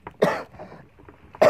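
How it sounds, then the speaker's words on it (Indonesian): Two short coughs from a person in a boat at sea while fishing for katombo near a fish aggregating raft, with a brief throat sound between them, close and fairly loud. "Sorry guys, batuk."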